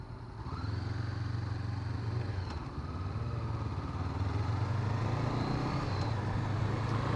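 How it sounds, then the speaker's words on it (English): Engine noise from a passing motorcycle on an open road, a steady loud drone with a rising tone, overtaking close by with no speech. "Motorcyclist."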